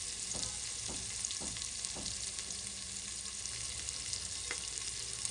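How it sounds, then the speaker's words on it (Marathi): Onion fries lightly in a pan for a masoor dal recipe, a steady close sizzle with a few soft stirring scrapes at an even pace and no voices. "कांदा हा थोडासा फ्राय झालेला आहे, जास्तही लाल नाही होऊन द्यायचं, त्याला हलका फ्राय होऊन द्यायचा आहे आपल्याला कांदा"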